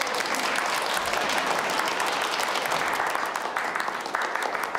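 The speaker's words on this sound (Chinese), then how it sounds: "来，掌声鼓励。" A studio audience claps in a steady burst of applause, dense and even throughout.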